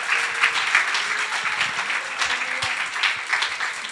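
A church congregation applauds during a service, a steady, dense patter of many hands clapping together, fairly loud and filling the room throughout.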